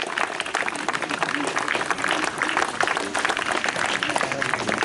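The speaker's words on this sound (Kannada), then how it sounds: "ಒಂದು ಜೋರಾದ ಚಪ್ಪಾಳೆ ಬರಲಿ ನಮ್ಮ ರೂಪಾನಗರದ ನಿವಾಸಿಗಳ ಕಡೆಯಿಂದ" Loud, sustained applause from an audience at a Kannada Rajyotsava award function held by a residents' welfare association, a dense wash of many hands clapping steadily throughout, with some crowd murmur under it.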